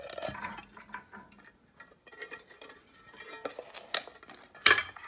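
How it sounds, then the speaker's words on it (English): A bolt is worked out of the metal top dish of a Tim Hortons coffee machine being scrapped, with irregular metallic clinks, scrapes and rattles of tool on steel, close by and intermittent, with no talking. "I'm just going to take this bolt out that's holding this top dish in"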